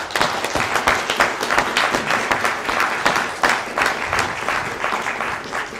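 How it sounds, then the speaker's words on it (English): An outdoor festival audience applauding a talk on horticultural smallholding, a loud, sustained round of clapping from many hands, dense and even throughout with faint crowd noise. "Quick round of applause for Chris."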